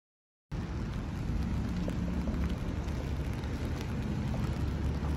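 Steady rain falls on the grounds of Hongwanji temple with a deep low rumble of thunder beneath it, a dense and even wash that stays constant throughout with no voices.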